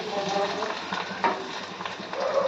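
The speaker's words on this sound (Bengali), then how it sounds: "এ দেখো কুচনো রসুন দিলাম" Chopped garlic fries in hot mustard oil in a wok, giving a steady close sizzle with a few light stirring clicks and scrapes, and a faint voice talks underneath.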